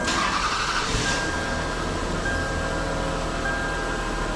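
A Toyota Highlander engine turns over and settles into a steady idle right after a knock sensor replacement, with a brief burst of cranking noise at the start, then a continuous close mechanical hum.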